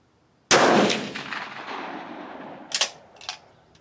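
A single loud rifle shot fired over a chronograph during load development, its boom decaying over a few seconds, followed by a couple of sharper metallic clicks and knocks close by.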